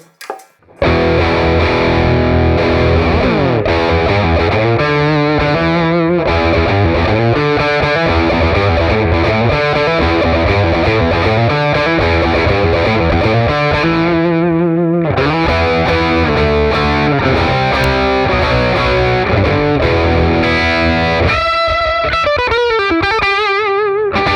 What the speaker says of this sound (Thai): ลองแบบเสียงแตกเลยของตู้